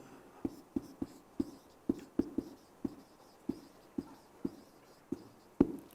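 A pen writes on paper at close range, giving a series of about fourteen sharp taps and scratchy strokes at an uneven pace over a quiet background. No one speaks.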